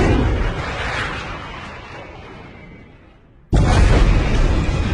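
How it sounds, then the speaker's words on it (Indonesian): Film bomb explosion: a heavy, loud rumbling blast decays over about three seconds, then a second sudden, powerful burst hits and roars on to the end, with no talking. "Dan bom pun dijatuhkan."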